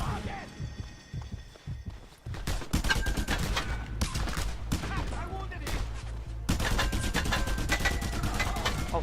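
Rapid bursts of gunfire and explosive blasts from the open-world action game Just Cause 2, loud and dense, with sustained volleys under game music.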